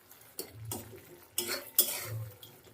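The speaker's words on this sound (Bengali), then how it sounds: "দেখো মশলাটাকে কত সুন্দর করে হালকা আছে কষিয়ে নিচ্ছি" Spice paste being stirred and fried down in a pan for Bengali tilapia curry, with a utensil scraping and clinking against the pan in a few distinct strokes over a low sizzle, close and moderately loud, no talking.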